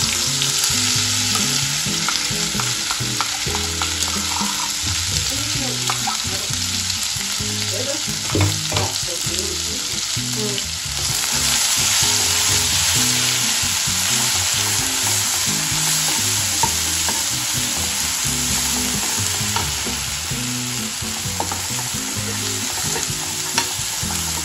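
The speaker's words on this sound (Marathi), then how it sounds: "मसाला चांगला भाजून घ्यायचा." Ground masala paste frying in oil for an egg curry, with a loud, steady sizzle and constant stirring scrapes filling the whole stretch, with no talking.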